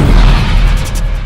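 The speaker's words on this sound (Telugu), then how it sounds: "బాంబ్." A bomb explodes in a Telugu suspense thriller film, a loud, deep boom with a heavy low rumble that rolls on for about a second without fading much.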